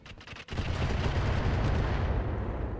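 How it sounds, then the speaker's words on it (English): Indirect-fire missile barrage from a mech in the BattleTech game RogueTech, a few quick sharp launches followed by a loud, sustained roaring rush of explosions. "Firing indirect on the Salamander."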